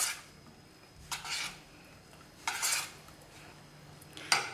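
Cauliflower being mixed into batter in a bowl, quiet setting broken by three separate bursts of scraping and clinking of a utensil against the dish.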